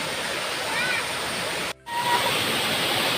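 Waterfall near a village, a dense, steady roar of falling water filling the whole clip, with a brief dropout midway.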